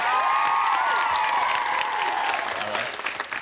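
A game show studio audience claps and cheers loudly, with high shouts and screams rising above the sustained applause before it thins out toward the end.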